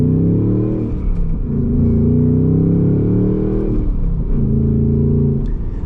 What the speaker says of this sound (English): All right, so setting off now in the Mustang.